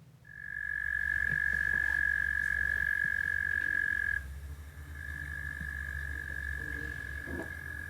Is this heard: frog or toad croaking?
yes